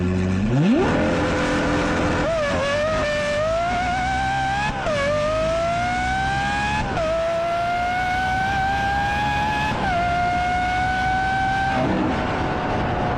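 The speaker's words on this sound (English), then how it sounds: "like a Lamborghini SVJ, V12 engine, absolutely phenomenal butter sound" A Lamborghini SVJ V12 engine revs hard and climbs through several gears, each rising whine cut by a brief shift, loud and close throughout.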